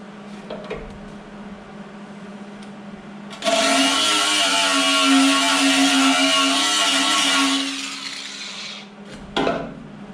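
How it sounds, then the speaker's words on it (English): An angle grinder grinds down welds on the thin metal of a John Deere 47 snow blower, a loud, harsh, steady grinding that runs for about six seconds, with quieter handling clatter before and after. "Now I just gotta grind them down."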